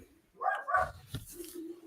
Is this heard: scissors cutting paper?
no